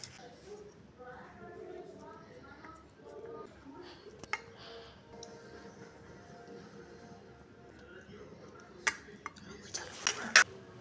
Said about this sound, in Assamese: চাট মছলাখিনি মিলাই লওঁ ভালদৰে